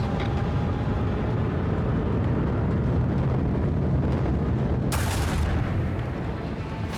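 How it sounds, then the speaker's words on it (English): Lance batteries fire in the Warhammer 40K: Rogue Trader game, a sustained rumbling barrage of booms with a sharp bright blast near the end, loud and continuous. "Fire the lance batteries."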